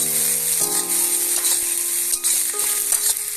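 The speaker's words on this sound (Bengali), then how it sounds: "এর সঙ্গে আমরা দিয়ে দিচ্ছি টমেটো কুচি এবং কটা চেরা কাঁচা লঙ্কা। এরপর এগুলোকে ভেজে নেবো একটু।" Onion, chopped tomato and slit green chillies sizzle in hot oil in a pan, a brief, loud, close frying hiss with occasional stirring scrapes and no talking.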